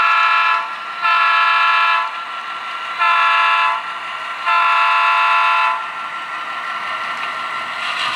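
An SP GP9 model locomotive switching around Huntington Beach and running through a Peco turnout, sounding a series of loud, sustained horn blasts in a start-stop pattern over a steady motor hum.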